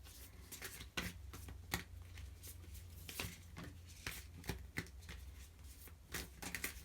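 Tarot cards are shuffled and drawn in a close, dry patter of riffles and soft slaps over a low steady hum, with repeated crisp bursts.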